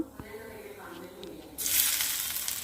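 Mustard seeds hit hot coconut oil and break into a sudden loud sizzle and splutter partway through. It follows a quieter stretch of faint kitchen sounds and light talk.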